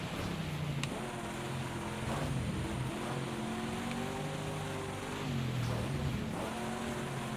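An Aston Martin racing on a wet dirt track in a video game, its engine droning steadily with rising and falling revs throughout, close and continuous with no talk.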